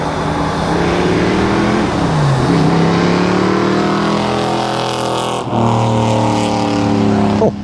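A 1973 Plymouth Duster's engine revs loud and close, its pitch sweeping up and down through several throttle blips, with a brief dip before it climbs again.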